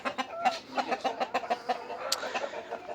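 Several roosters cluck in quick, uneven bursts, squabbling close by with a brief sharp squawk near the end.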